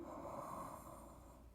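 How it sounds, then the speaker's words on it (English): A single long, soft breath drawn in through the nose during a post-workout yoga stretch, quiet and close, with a gentle airy rush that fades slightly toward the end. "One more breath in"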